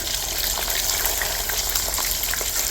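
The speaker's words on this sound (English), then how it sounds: "when we fry this fish like this and people see it in the plate" Fish deep-fries in a pan of hot oil, a loud, close, bubbling sizzle that runs continuously with frequent pops and crackles, and nobody speaks over it.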